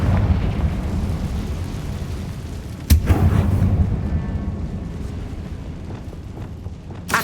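Hogwarts Legacy's Confringo spell detonates in a tomb, a sharp blast that rolls into a deep, rumbling boom over low ambient drone, then fades; no voices.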